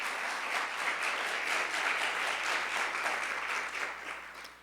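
Audience applause welcoming panelists at an evening event, a steady, even wash of clapping from a seated crowd that holds for several seconds before fading slightly at the end.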